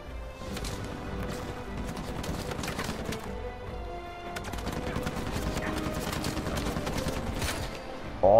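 Sustained gunfire in Uncharted 4 runs as a dense stream of rapid shots over a continuous rumble of game sound, with a sudden louder burst at the very end.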